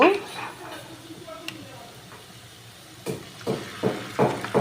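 Marinated chicken goes into a hot pan with a burst of sizzling, then rhythmic ladle scrapes and stirring clatters over a softer frying hiss, with people talking briefly nearby.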